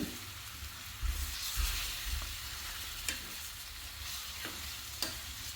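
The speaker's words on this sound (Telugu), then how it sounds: "మటన్ వేసిన తర్వాత మొత్తం అంతా మంచిగా కలపాలి" Telangana-style mutton curry being stirred in a pan, a steady close sizzle with scraping strokes and a few louder knocks of the spoon against the pan.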